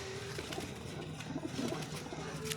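Golden pigeon, a cut-feathered bird kept among loft pigeons, cooing in low repeated murmurs close by, over steady background noise.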